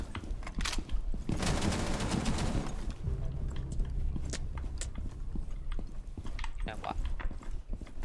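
Rapid gunfire bursts and shots from an online shooter video game, dense and loud with a sustained volley early on, then scattered shots and clicks, with players' voices talking over it.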